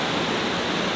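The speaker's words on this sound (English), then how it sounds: "There's a waterfall there." A jungle waterfall in Bali, heard as a steady, loud, dense rush of falling water with no break.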